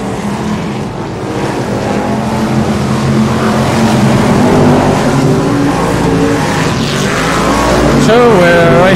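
A pack of about 29 BriSCA Formula 1 stock cars roars off the grid at Northampton for a consolation race, a loud, dense wall of engine noise building and swelling as they accelerate, with an announcer talking over it.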